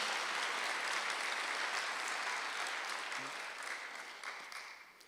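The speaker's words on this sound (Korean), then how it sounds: "박수하세요." A church congregation claps during a Sunday worship service, a broad, soft wash of applause heard from a distance that gradually fades toward the end.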